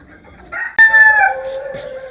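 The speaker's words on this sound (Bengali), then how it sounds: "এটা হচ্ছে পৃথিবীর সবচেয়ে ছোট জাতের মুরগি।" A Malaysian Serama chicken, the world's smallest chicken breed, gives a short, close, loud call with a bright, rising-then-falling crowing tone after a softer opening note, against quiet surroundings.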